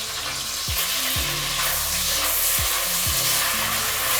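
Shrimp and squid stir-fry crackles and sizzles loudly in a hot pan, a dense continuous frying hiss broken by a few clanking stirs of the utensil.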